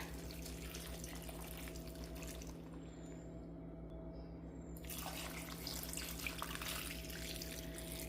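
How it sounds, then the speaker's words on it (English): Water from a tap runs steadily into a cooking pot, about four cups for a simple ham and vegetable dinner, a continuous close splashing stream that briefly thins midway, with no talking. "Now the water."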